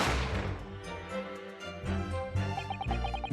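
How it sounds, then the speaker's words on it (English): A single loud gunshot crack from the courtroom game The Great Ace Attorney opens the moment, its burst decaying quickly into a ringing, tonal musical swell without speech. "You heard the gunshot, you mean?"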